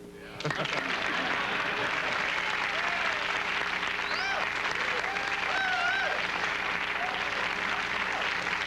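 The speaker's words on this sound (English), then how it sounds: "Little applause never hurt." A studio audience on a talk show bursts into sustained applause, steady and dense clapping that starts abruptly and carries on at a constant level throughout.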